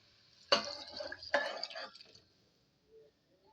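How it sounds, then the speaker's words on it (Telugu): Water splashes into a cooking pot in two short pours, each a sudden close gush trailing off into drips, then quiet. "ఇప్పుడు ఇంకా నీళ్ళు పోసేస్తే అయిపోద్ది"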